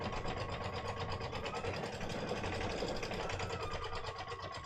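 A Baby Lock Altair 2 sewing machine stitches a design onto window screen with a steady, rapid mechanical hum and needle chatter that runs continuously and close by, with no talking.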